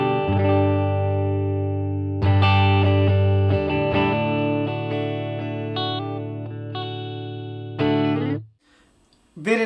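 An electric guitar plays sustained clean chords and single notes through a Marshall DSL1CR one-watt valve amp, each strum ringing out with a smooth decay, loud and close, ending in a brief pause before a final strum.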